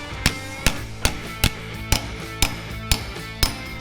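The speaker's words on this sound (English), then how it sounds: "we're gonna hammer this weld out." A hammer forges a weld seam on 1976 AMC Pacer sheet metal, striking eight sharp, evenly spaced blows about half a second apart with short ringing decays.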